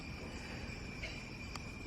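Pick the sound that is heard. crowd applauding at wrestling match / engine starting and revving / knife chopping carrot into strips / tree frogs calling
tree frogs calling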